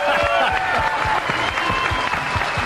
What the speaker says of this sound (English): And as the crowd applauds Efren and, of course, Jeff